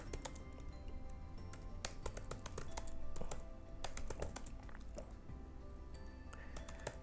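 Keys clatter on a computer keyboard as someone types text in a closed room, with irregular quick clicks and short bursts of keystrokes over a faint background hum.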